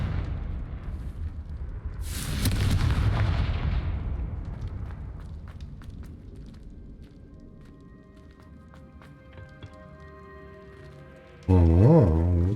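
The Confringo fire spell goes off in Hogwarts Legacy with a broad, rumbling blast that swells and fades over several seconds. Softer game effects follow, then a short tonal sound near the end.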